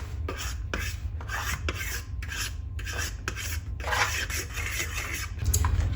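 Cumin and nigella seeds are stirred together in a bowl, giving a close, gritty scraping rasp repeated in quick, uneven strokes, with no speech.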